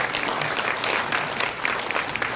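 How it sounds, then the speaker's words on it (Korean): Steady applause from an indoor crowd at a rally or gathering, dense continuous clapping throughout with no pauses. "까뿌까 박수 한번 보내주십시오."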